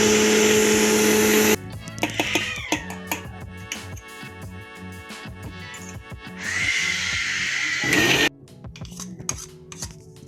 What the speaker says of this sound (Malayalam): അതായത് മിക്സിയിലിട്ട് അരച്ചെടുക്കുന്നുണ്ട്